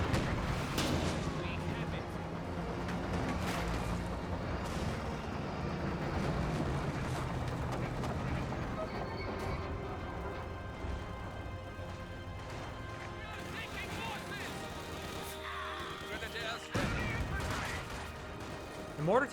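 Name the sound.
mortar and gunfire in video game Company of Heroes 2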